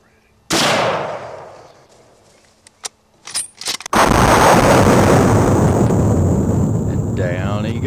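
A single loud gunshot cracks out close by during a deer hunt and decays over a second, followed by a few clicks and rustles and then a continuous loud rushing noise that drowns everything else.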